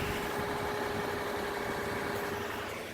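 A 2002 Nissan Maxima SE engine, known to have a rod knock, idles low with a steady, even mechanical rumble and faint ticking, heard close up with no talk over it.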